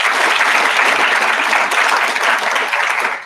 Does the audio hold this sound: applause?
yes